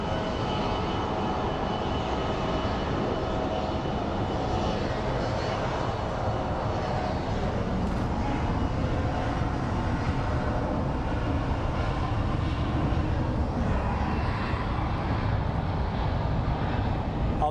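Airliner in Colorado One livery at Phoenix Sky Harbor airport, a steady broadband jet roar filling the whole stretch, fairly loud and continuous with no voices.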